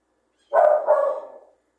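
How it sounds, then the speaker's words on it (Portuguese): A single short dog bark, close and fairly loud, following silence, with quiet after it. "toda vez que a gente começa a fazer a pregação, os cachorros aqui começam a latir"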